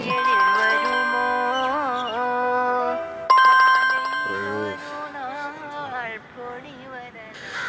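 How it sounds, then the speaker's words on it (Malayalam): A mobile phone ringtone for an incoming call plays a bright, repeating electronic melody loud and close, pausing briefly and restarting, while a voice speaks over parts of it. "സോന രാജ്കുമാർ വിളിക്കുന്നു."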